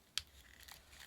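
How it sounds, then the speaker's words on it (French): A couple of quick, crisp snips of scissors cutting through a roll of double-sided tape, one near the start and another at the end, in an otherwise quiet room. "et ensuite tu découpes le rouleau de scotch"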